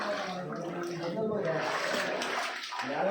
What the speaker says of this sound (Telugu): నీళ్ళు పడుతున్నాయి కదబ్బా